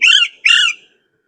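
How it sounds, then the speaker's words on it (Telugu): A bird hidden in a tree calls twice, two loud, harsh squawking notes in quick succession, close by, then silence. "ఈ పక్షికి ఈ చెట్లోనే ఉంది, ఎక్కడుందో తెలియదు కానీ అరుస్తుంది"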